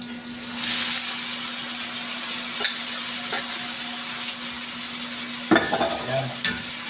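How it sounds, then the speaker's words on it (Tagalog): Boiled mung beans go into a hot frying pan for ginataang monggo with anchovies, giving a steady broad sizzle broken by a few sharp utensil knocks and scrapes, with a steady hum underneath. "ilagay natin yung pinakuluang munggo"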